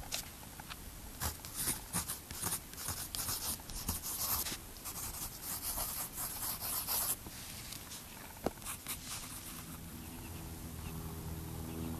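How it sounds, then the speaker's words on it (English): A pen scratches across a page of an art journal, writing by hand in close, continuous strokes with brief pauses and rubbing sounds, with no talking. "And I think now I will start to write here."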